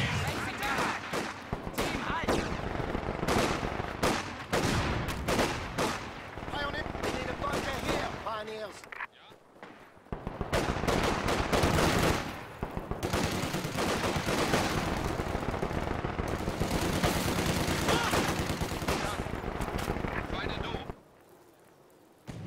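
MG42 machine gun bursts and scattered gunfire in a Company of Heroes 2 multiplayer battle, loud and nearly continuous across two long stretches with a brief lull between, mixed with battle noise and game voice lines.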